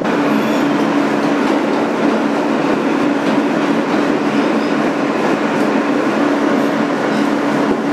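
A 2008 Kawasaki R-160B subway car, number 8842, running on the BMT Sea Beach N local line, heard from inside as a loud, steady rumble with a constant hum and faint wheel clatter throughout.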